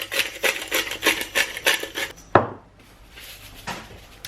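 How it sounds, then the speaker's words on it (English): Spoon stirring cheese, salt and black pepper together in a bowl for a slow cooker meal, a steady run of scraping, clinking strokes close up, then one sharp knock and quieter mixing. "So I'm just going to keep mixing this until everything's combined."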